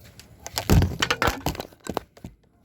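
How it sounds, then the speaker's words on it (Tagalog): A camera falls and hits the ground outdoors, making a short burst of cracking, clattering impacts that are loud and close, during target shooting at a sardine can from 17 meters. "nalaglag yung camera natin"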